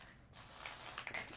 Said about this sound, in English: So I use this bat grip spray on mine.